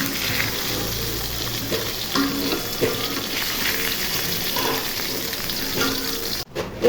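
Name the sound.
silver carp fish frying in hot oil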